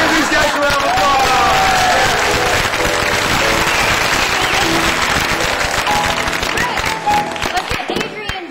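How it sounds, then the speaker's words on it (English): Audience applause for improv performers, a dense, loud wash of clapping and crowd noise that runs steadily for several seconds and then thins out toward the end. "give these guys a round of applause"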